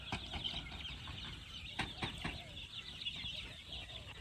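Chickens and chicks cluck and peep outdoors, a soft, busy scatter of short calls that is fairly close but quiet.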